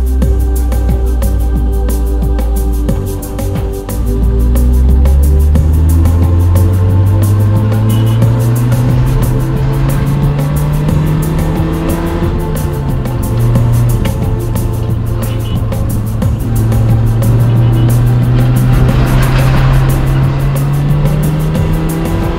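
A car driving on dirt tracks in Mali, its engine droning loud and close throughout, the pitch sliding down, climbing gradually and then dipping and rising again as the vehicle works through its gears.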